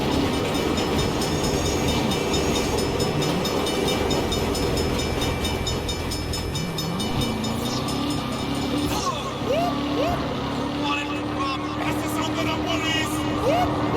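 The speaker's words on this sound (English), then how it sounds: "Bad time for a train." A train in Saints Row rumbles steadily past with rolling mechanical clatter and a faint horn-like whine rising later, while traffic noise fills the background.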